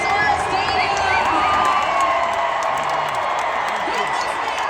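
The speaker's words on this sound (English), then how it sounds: "Give this man a round of applause." A large indoor stadium crowd cheers and shouts at a monster truck freestyle show in Lucas Oil Stadium, a dense, steady roar with whoops throughout and an announcer's voice over it.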